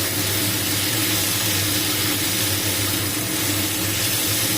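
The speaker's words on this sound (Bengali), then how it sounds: "মিডিয়াম তাপে এটা ভাজা হতে থাকবে" Prawns fry in a pan over medium heat, making a dense, continuous hiss and sizzle at a steady, fairly loud level throughout, with a low hum beneath and no talk.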